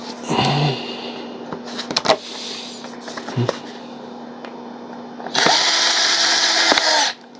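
A handheld power tool drives screws into a Freewing 64mm A-10 Thunderbolt II RC jet model, with short whirring bursts, small handling clicks and knocks, then a sustained loud whine near the end, close up.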